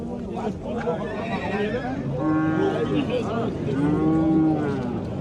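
Cows moo in long, drawn-out calls at a livestock market in Kattakurgan, among a bustle of nearby voices and crowd noise, with two clear lowing calls rising above the chatter.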